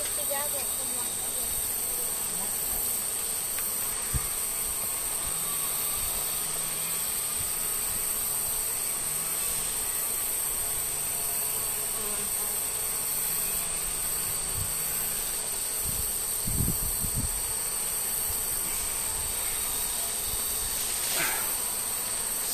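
Honey bees buzz around an open hive during an inspection, a steady faint droning hum throughout, with occasional thumps and handling noises close by.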